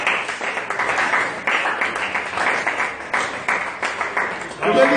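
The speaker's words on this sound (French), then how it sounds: "Donnons une forte acclamation." A church congregation applauding during a Sunday sermon, a sustained wash of clapping from many hands with voices mixed in and a preacher speaking over it.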